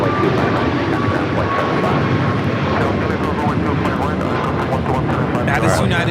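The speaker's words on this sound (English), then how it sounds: "That is United Airlines 1896 taking off to Cleveland on the MAX 9." A United Airlines Boeing 737 MAX 9 takes off at Los Angeles International Airport, its broad jet roar loud and constant throughout, with talking over it.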